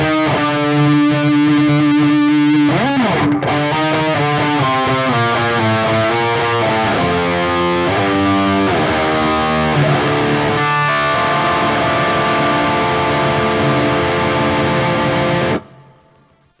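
A distorted electric guitar plays through the Phrygian mode, notes stepping one after another in a sustained, saturated metal tone that rings loud until it cuts off near the end.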